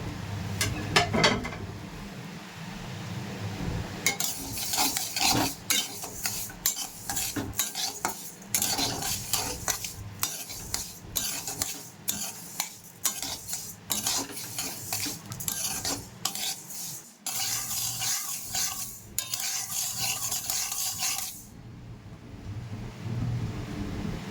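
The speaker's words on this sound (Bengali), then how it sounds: "ডালটা আমি আগে ভেজে নেবো" Mung dal is dry-fried and stirred in a pan, a spoon scraping and clinking in quick repeated strokes over a soft sizzle, close and steady for about twenty seconds before stopping.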